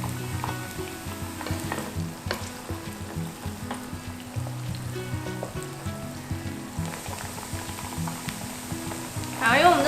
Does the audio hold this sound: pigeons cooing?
no